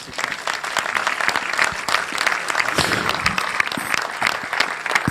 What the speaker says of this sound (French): qu'on puisse vous applaudir